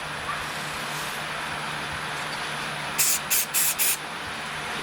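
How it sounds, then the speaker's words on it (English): CA activator sprayed onto an acrylic pizza cutter finish: four short, close hissing spray bursts in quick succession after a stretch of low background hum. "I'm gonna give a little bit of blast of"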